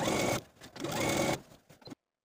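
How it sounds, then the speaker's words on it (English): A sewing machine edge stitching along a serged edge of shorts runs in two quick bursts of rapid whirring stitches, separated by a short pause, then stops. "take it to your sewing machine and edge stitch along the inner serged edge"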